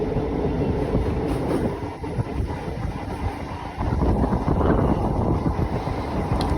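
A Chennai MRTS suburban train runs along the Beach–Velachery line, a loud continuous rumble of wheels and carriage noise with wind buffeting, steady throughout with a short dip midway.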